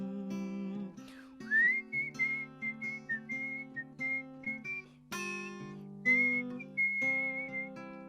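A person whistles a cheerful melody over accompanying instruments, the clear whistled notes rising and falling in a lilting phrase, close and prominent, with no spoken voices.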